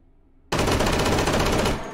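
Full-auto M1911A1 Dillinger .45 ACP pistol firing in the VR shooter H3VR, a single sudden, loud, continuous burst of rapid shots lasting over a second.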